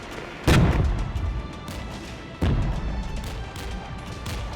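Mortar fire in the war video game Regiments: two heavy booming blasts about two seconds apart, each trailing into a rumbling tail over constant battlefield background noise.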